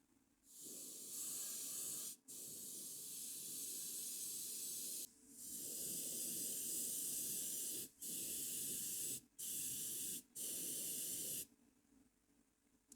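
Tamiya X-27 red spray paint hissing onto Iron Man armour in a series of short and longer bursts separated by brief pauses, close and fairly quiet.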